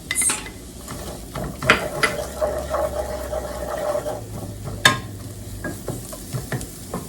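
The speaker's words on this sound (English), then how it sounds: "now I'm going to add in our red onion and our yellow onion. And then we're going to saute that." Red and yellow onions sauté in melted butter in a pan, a steady close sizzle broken by scraping stirs and a few sharp utensil knocks against the pan, with no one speaking.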